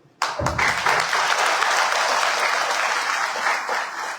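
Loud, sustained applause from a sizeable crowd at a political workers' rally in Kankavli, dense clapping that starts abruptly and carries on steadily for several seconds.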